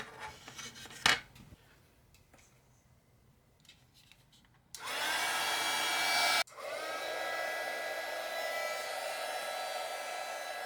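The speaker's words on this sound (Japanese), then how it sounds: "またドライヤー攻撃しますか？" A hair dryer starts up with a steady loud whoosh, cuts off briefly, then resumes blowing continuously on decals of a 1/24 Hasegawa Jaguar XJR-9 LM model kit, after some light handling noises.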